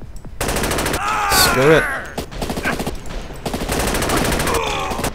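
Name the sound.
gunfire in video game SAS Secure Tomorrow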